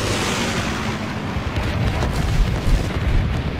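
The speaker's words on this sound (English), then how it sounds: "I'm going to drop my bombing run here." Bombing-run explosions in the game Guns Up form a dense, continuous roar of overlapping blasts that rumble heavily and loudly throughout with no pauses.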